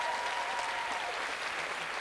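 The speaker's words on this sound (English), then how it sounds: "Applaud the poet." An audience at a slam poetry competition applauds a poet, a steady, dense wash of clapping that holds for the whole stretch without pause.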